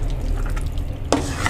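Chana dal halwa roasts in desi ghee as a spoon stirs it, giving a low, steady frying rustle and one sharper scrape near the end, close and brief with no voices.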